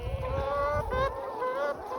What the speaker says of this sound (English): First morning back out on pasture. We're back out on pasture. Happy hens.